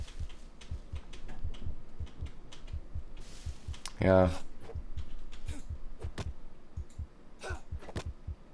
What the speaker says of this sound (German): Mein Herzschlag wird auch immer langsamer.